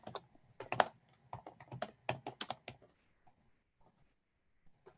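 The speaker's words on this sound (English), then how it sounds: "just typing something out there to the chat" Close, quiet clicking of computer keys in quick irregular bursts, fading to a few scattered taps at the end.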